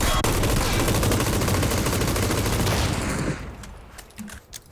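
Dense, rapid gunfire in the video game PUBG roars continuously for several seconds, then cuts off, leaving a few scattered sharp shots and softer noises in the background.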